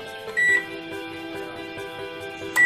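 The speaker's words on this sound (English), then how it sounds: "Put the conical flask in the microwave oven" A microwave oven runs at 300 watts heating a glass conical flask, a steady electrical hum with tonal whine, broken by a short beep near the start and another at the end.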